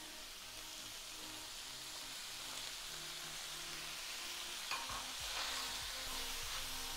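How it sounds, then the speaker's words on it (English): Garlic chives and sprouts stir-frying in a hot pan, a steady close sizzle and crackle with soft scraping stirs and a few spatula knocks near the end, no talk. "Now I'm going to add our garlic chives."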